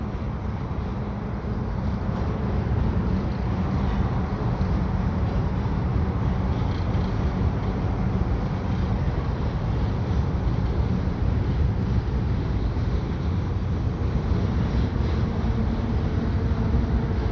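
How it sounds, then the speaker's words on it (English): An eastbound EXO commuter train rolls across Victoria Bridge in windy conditions, a steady, moderately distant rumble and rail roar that holds evenly for the whole stretch with no voices. "Oh, it's a commuter train, I think."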